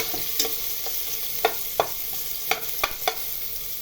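Ginger being stirred and sautéed in a pan while cooking pork sinigang, a soft background sizzle broken by several sharp scraping clicks of the utensil at irregular intervals.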